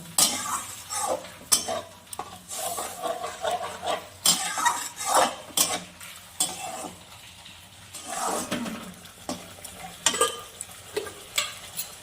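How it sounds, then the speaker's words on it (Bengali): Potol posto, pointed gourd in poppy-seed paste with its spice-washing water, is stirred and sautéed in a pan: repeated scraping and clinking of a utensil against the pan over a steady close sizzle, with no talking. "এটা আমি আরেকটু ভালো করে কষিয়ে নিব"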